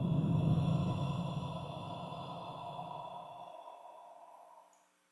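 A slow, soft exhalation during guided breathing meditation, one long breath out that gradually fades to silence, close and alone.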